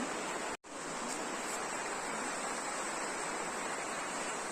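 River water rushes steadily near a hanging bridge, a dense, even wash of flowing noise broken only by a brief dropout early on.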